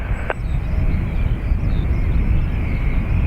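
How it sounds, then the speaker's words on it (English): An airliner takes off from runway 28 right at Dublin Airport, its engines a steady broad roar with wind buffeting, heard from a distance outdoors and holding constant for several seconds. "EI160 off to Heathrow."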